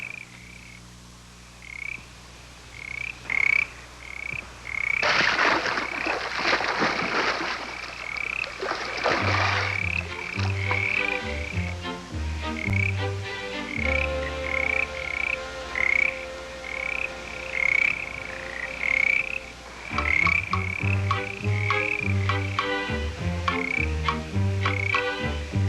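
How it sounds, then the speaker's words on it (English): A dense chorus of frogs croaks in repeated rhythmic pulses, loud and close, with overlapping calls throughout. "That chorus of frogs didn't quite know what to make of that bear."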